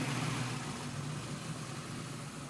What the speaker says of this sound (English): the awesome sound of that V8 Racing Marcel Nuren car